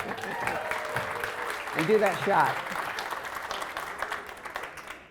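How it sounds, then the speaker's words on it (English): Audience applause at the Latino ABA 2018 gathering, with steady clapping from a crowd while a voice speaks over it, swelling briefly midway and then tapering off. "Clap it up for your families."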